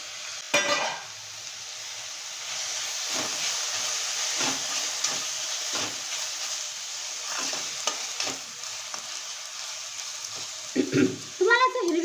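Grated white radish sizzles and crackles in a pan with cooked chana dal, a steady close hiss with occasional scraping stirs, and a voice speaks briefly near the start and end.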